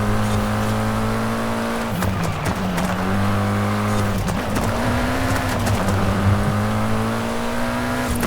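A Mitsubishi Eclipse GSX with four-wheel drive runs hard in Forza Horizon 5, its engine droning loud and steady with pitch dips at gear changes and brief tyre noise, heard close throughout.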